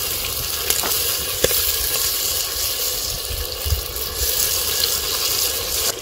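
Onions, chillies and squeezed tomatoes fry in a clay pot for a murrel fish curry. The sizzle is loud and continuous, with occasional clicks and taps from stirring.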